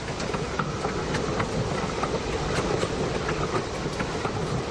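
A train rolls steadily along railroad tracks, a loud, continuous rumble with faint rhythmic clatter from the wheels and no voices.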